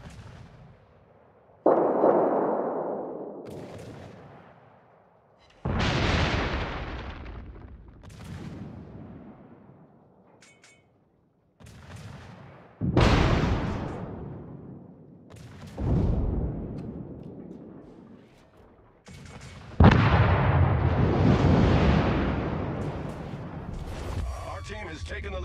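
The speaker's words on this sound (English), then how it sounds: "All stations requesting fire on the designated target." Naval guns fire in World of Warships clan battles: about six heavy, booming salvos, each with a long rolling rumble that fades out, spaced a few seconds apart and loud up close.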